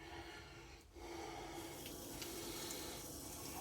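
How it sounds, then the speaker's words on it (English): Running water from a sink tap splashing steadily while a face is rinsed after lathering, a continuous close rush with a brief dip near the start. "Rinse this off real good, real quick."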